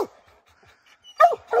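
Plott hounds bark while treeing a bear outdoors, giving a few sharp, close barks and yips in quick bursts, the loudest two near the end after a faint whimper and quiet gap.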